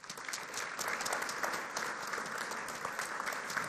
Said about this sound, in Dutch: Mogen we een groot applaus voor Robert Dijkgraaf.